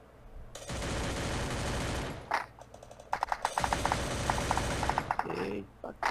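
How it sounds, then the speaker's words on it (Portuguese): Bursts of rapid automatic gunfire in Free Fire Battle Royale rattle in long sustained volleys, broken by short pauses and scattered single shots. "É tiro, velho."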